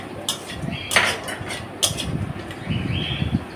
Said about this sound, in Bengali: এবার কুমড়ো বড়ি ভেজে নেব।